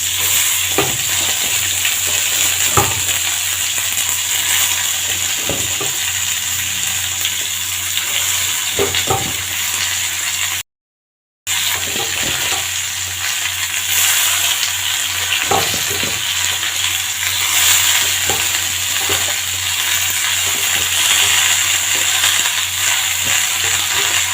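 Mixed winter vegetables fry in oil with dried chili and panch phoron, a steady loud sizzle with scraping stirs at intervals, briefly cut out midway.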